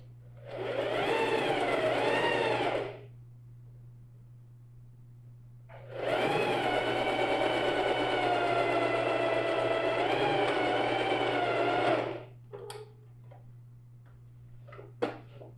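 A sewing machine runs in two bursts while stitching a backpack lining, first a short run of about two seconds, then a longer steady run of about six seconds, followed by a few faint clicks and handling noises.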